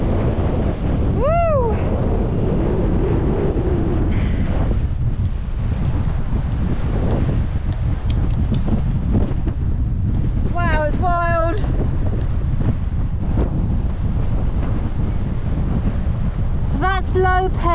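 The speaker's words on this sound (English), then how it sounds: "it's blowing a white hoolie here." Strong, cold wind on an open fell ridge near Blake Fell in the Lake District buffets the microphone in a loud, continuous roar, with a few brief high whistling tones.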